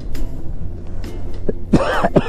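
A person on a mountain bike trip through Spiti Valley gives a couple of sharp, loud coughs near the end, after softer throat noises over a low engine rumble.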